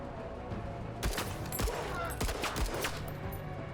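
Weapons fire in the sci-fi turn-based tactics game Menace, a volley of sharp shots and bursts after a quiet lead-in, moderately loud with a trailing rumble.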